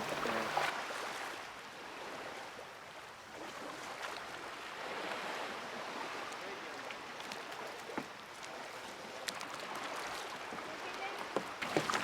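Gentle splashing of a kayak paddle dipping into clear water over a coral reef in Hong Kong, with rippling and lapping waves and a breezy outdoor backdrop, no talking.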